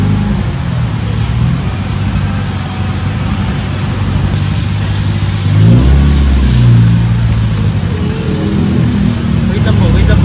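A Toyota Corolla engine runs loudly during a mechanic's road test after a transmission oil change, with steady road rumble and a rev rising midway, heard from inside the car.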